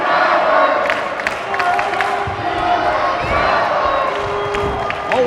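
A wrestling arena crowd jeers the champion during a Superstars of Wrestling match, a loud continuous roar of shouting and booing voices with scattered individual yells rising above the mass.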